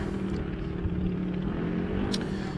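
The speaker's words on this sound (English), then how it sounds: "I can hear engines re-firing again down here onto the start line." Drag racing engines rumble near the start line at a junior dragster shootout, a steady low droning roar heard at a distance, held without a break and with no talk over it.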